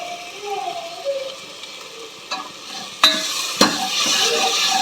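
Tomato and coriander fry in a pan with a soft sizzle, while a spoon stirs and scrapes, knocking the pan twice sharply, the frying growing louder near the end.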